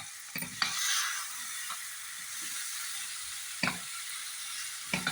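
Chopped onion and capsicum sizzle steadily in a pan for chilli chicken, with a soft, continuous frying hiss and several sharp scrapes and clinks as they are stirred.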